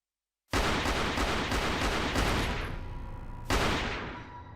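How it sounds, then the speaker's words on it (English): Bursts of gunfire echo during an anti-terror operation in the forests of Mendhar, Poonch, Jammu and Kashmir: a sharp volley of rapid shots, then a second loud burst that reverberates and fades. "the forests of Mendhar in Poonch have reverberated with gunshots"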